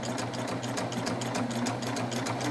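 An Ovation serger fitted with a blindhem foot runs at speed, giving a fast, steady mechanical whir with rapid rhythmic needle clatter, close and continuous with no voices.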